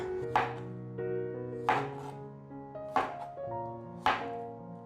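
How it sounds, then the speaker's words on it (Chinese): A knife chops a small cucumber into roll-cut chunks on a cutting board, four crisp, evenly spaced thunks close by under a faint background hum. "那现在我们继续把这个小黄瓜切成滚刀块"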